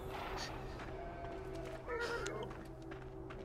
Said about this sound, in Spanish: Oh, ahí está el Jay con los caballos